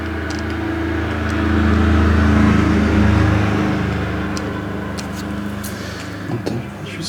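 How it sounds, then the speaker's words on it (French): A car passes by, its engine whoosh swelling to a peak midway and then fading slowly, with faint clicks and rustles near the end and no talk. "Une voiture qui passe"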